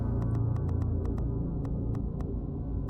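A low, throbbing bass drone from the Dagon video game hums steadily, with faint regular ticks pulsing over it throughout.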